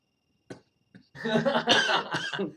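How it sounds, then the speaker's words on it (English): A single cough, then a second short one, followed by a longer burst of rough, throaty coughing and sputtering, fairly close. "He's coughing."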